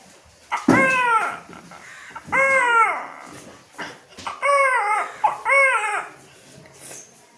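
A voice imitates a baby crying with several rising and falling wails in bursts, close and fairly loud, with short gaps between them.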